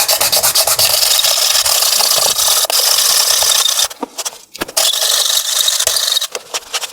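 A Mini 4WD car part is ground down on 400 grit sandpaper, a loud, continuous close rasping rub that breaks off briefly near the end with a few short strokes.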